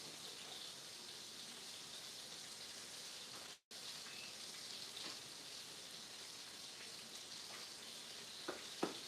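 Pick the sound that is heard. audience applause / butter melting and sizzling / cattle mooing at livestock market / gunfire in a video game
butter melting and sizzling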